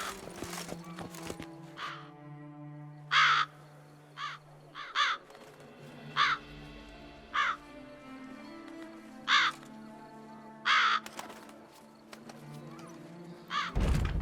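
Crows caw repeatedly in a town street by a quayside, about a dozen harsh separate calls spaced irregularly over steady background ambience and soft tones, with a horse's hooves faintly clopping.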